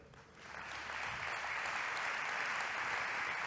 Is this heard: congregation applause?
yes